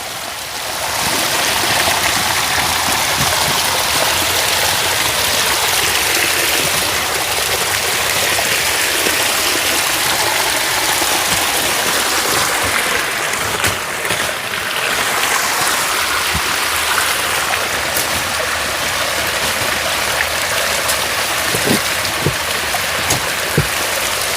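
A small mini waterfall and stream called Sibol falls rushes close and loud, a dense, steady roar of splashing water that continues unbroken throughout with no voices.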